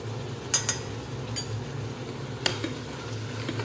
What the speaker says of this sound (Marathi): आता आपण हे सगळं मिक्स करून घेणार आहे आणि थोडा वेळ तेलामध्ये हे वांगे आणि हा सगळा मसाला परतवून घेणार आहे।